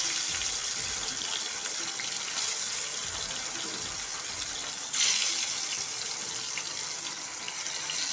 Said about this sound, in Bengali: শাক সবজি সব ধোয়ার জন্য।